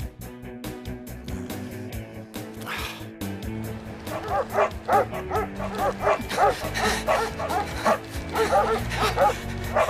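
Cartoon dogs in a French animated series break into a run of rapid yips and barks that build after a quieter opening, close and loud, with a voice briefly heard among them.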